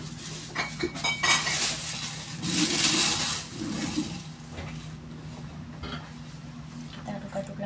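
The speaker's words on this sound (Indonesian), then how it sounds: "Kita aduk-aduk lagi ya." A spoon scrapes and clinks in a bowl as a tofu and minced meat dumpling mixture with cornstarch is stirred, irregular scraping and clattering bursts rising and falling over a background hum.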